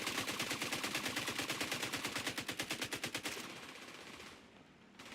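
Rapid automatic gunfire in the shooter game The Division 2, a long burst of evenly spaced, loud shots that stops abruptly and leaves a quieter background.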